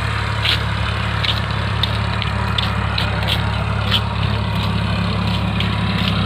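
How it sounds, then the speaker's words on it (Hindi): A tractor plowing a village field in Ballia runs as a steady low engine drone, loud and unbroken, with faint ticks and clatter riding on top of it. "देखिए गांव में ट्रैक्टर ऐसे खेत जोताता है।"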